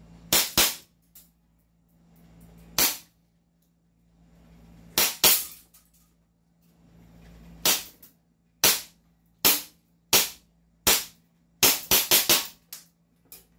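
An HK M110 DMR airsoft rifle fires a series of sharp single shots at uneven intervals, a few paired closely, with a faint low hum underneath and no talk.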